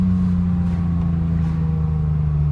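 A BMW 320i E36 with a swapped-in 328i engine revving, a steady loud drone with a strong low hum, heard close and alone without speech.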